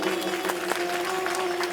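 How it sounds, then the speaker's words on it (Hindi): Devotional gathering during a Bhagavat katha in Manegaon, Chhindwara, with the crowd clapping steadily and continuously throughout, a dense wash of hands in a reverberant space under a faint tonal hum. "आप अपने लिए जोरदार ताली बजाओ।"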